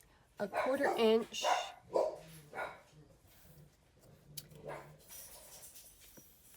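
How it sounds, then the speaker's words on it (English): Dogs bark a few times in the background, faint and somewhat distant, while a person speaks nearby. "sorry if you hear barking, that is my dogs"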